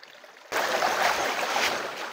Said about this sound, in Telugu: ఇది చూడండి, ఆ యొక్క కొండల నుంచి అయితే పారుతూ వస్తుంది ఈ యొక్క వాటర్ అయితే.